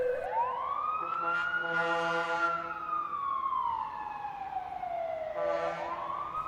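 A loud fire engine siren wails in slow, long sweeps rising and falling in pitch, with short bursts of noise breaking in over the steady tone.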